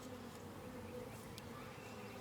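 Honey bees swarm over the comb frames of an opened hive, a steady, low, droning buzz close by that holds evenly throughout without any talking.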